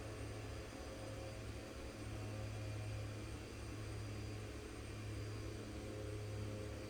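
Light aircraft engine droning steadily on a slow, full-flaps landing approach in the X-Plane 11 flight simulator, a constant low hum with no voices.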